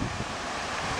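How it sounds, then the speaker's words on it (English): Waterfall at Potato Falls in Wisconsin, a steady broadband rush of falling water with wind buffeting the microphone, continuous and fairly close, no voices. "There's the waterfall."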